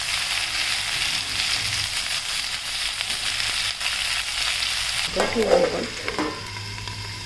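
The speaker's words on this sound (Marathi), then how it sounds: "शिमला मिरची टाकली ती परतून घेऊ छान" Chopped capsicum sautés in hot oil with garlic for a besan shimla mirchi bhaji, a loud continuous sizzle with scraping stirs near the end and a brief spoken phrase.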